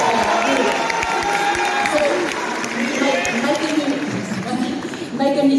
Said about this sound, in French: on peut continuer d'applaudir Ludovic qui travaille juste à côté de nous